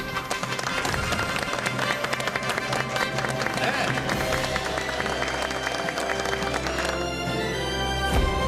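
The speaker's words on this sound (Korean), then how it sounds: "여러분 박수로 환영해 주십시오." A studio audience claps in steady, sustained applause to welcome a guest on a Korean TV talk show. The applause is loud and continuous, and a presenter's voice mixes in.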